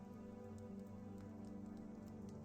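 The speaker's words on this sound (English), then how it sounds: "The rest of the rain falls." Steady rain falling and pattering on a surface, a continuous close wash of drops with scattered brighter ticks, no voices.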